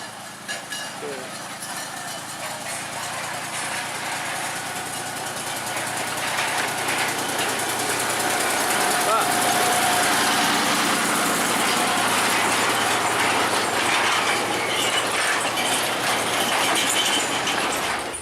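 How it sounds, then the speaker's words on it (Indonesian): Small locomotive no. 7 hauling empty sugar cane lorries on the PG Semboro–Gumukmas line, a broad rumbling roar that swells louder as it draws near and stays loud to the end, with talk faintly mixed in. "lokomotif kecil nomor 7 membawa lori kosongan dari arah selatan menuju ke utara"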